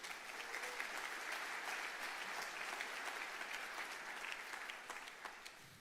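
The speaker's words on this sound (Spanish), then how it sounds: "Un aplauso para todos los intercesores." Steady, sustained applause from a large church congregation, even and unbroken throughout, heard somewhat distantly.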